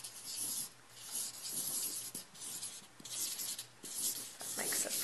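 A Letraset Pantone marker in a coppery color scratches and rubs across paper in repeated short strokes, a soft close-up hiss rising and falling rhythmically with no voices.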